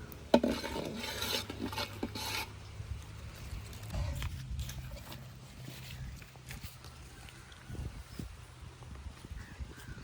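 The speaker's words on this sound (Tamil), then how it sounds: "இப்போ பொரியை போட்டு கிண்டி உருட்டுன்னு உருட்ட போகிறோம்." Puffed rice is stirred into hot jaggery syrup in a pan, with soft, uneven scraping and rustling strokes and faint clinks of a utensil, fairly quiet and close.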